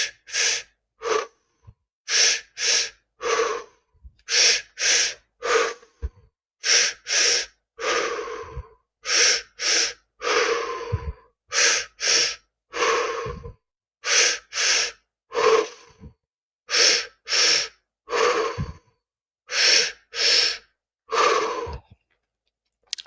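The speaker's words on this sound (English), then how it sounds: "2 breaths in, 1 breath out" Guided breathwork in a pattern of two quick inhales followed by one exhale, repeated steadily throughout, each breath loud and close in otherwise quiet surroundings.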